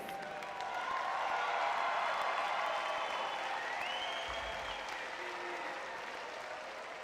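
Applause from a graduation crowd at the UCLA student-athlete ceremony for the class of 2026: a soft, distant wash of many hands clapping that swells early and then slowly fades, with faint voices under it.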